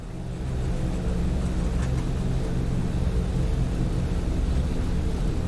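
A PMDG DC-6 propliner in a flight simulator runs its piston engines at takeoff power, a dense, steady, loud rumbling drone that holds without a break.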